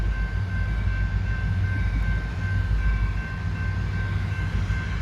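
An empty coal train rolls past on the railroad in West Virginia, bound for a mine near Mount Hope, giving a steady low rumble and rolling drone with faint high tonal whine, moderately distant and unbroken.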